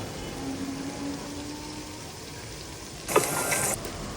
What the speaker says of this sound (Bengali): দুই চামচ আদা বাটা এক চামচ রসুন বাটা দুই চামচ পেঁয়াজ বাটা দিয়ে ভালোভাবে নেড়ে চেড়ে ওগুলোকে ভেজে নেব